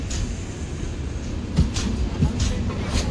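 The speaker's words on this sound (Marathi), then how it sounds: "ट्रेन आली नांदेड पनवेल." Nanded–Panvel Express train at Parli railway station, a busy platform rumble with clattering wheel bumps and brief bright squeals, steady and fairly close throughout.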